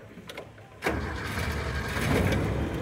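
An engine cranks and catches after a carburetor overflow repair, jumping suddenly from quiet to a steady idle that holds close and even, with a slight rise in level near the end.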